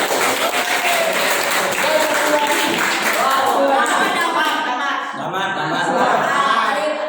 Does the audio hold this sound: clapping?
yes